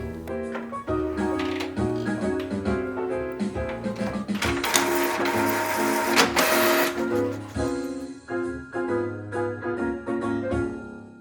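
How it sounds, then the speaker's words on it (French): Inkjet-style printer running through sheets of drawn animation frames in a home setting, a steady busy mechanical clatter of carriage passes and paper feed with a louder whirring burst midway, close and continuous, no voices. "Une fois tous mes plans dessinés ou animés, je lance l'imprimante."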